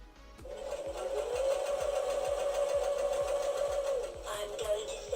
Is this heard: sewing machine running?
yes